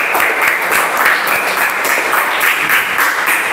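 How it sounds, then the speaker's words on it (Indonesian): Continuous applause from a crowd, dense and steady clapping throughout with no pauses, fairly loud and close. "Tepuk tangan."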